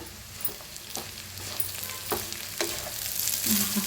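Seasoned rice with lemon juice and chopped coriander is stirred in a pan, soft scrapes and light knocks of a spoon over a faint sizzle, the mixing growing a little busier toward the end.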